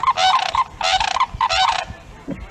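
Sandhill cranes give a loud unison call in three repeated bursts of rolling, bugling notes, close and clear with brief pauses between each burst.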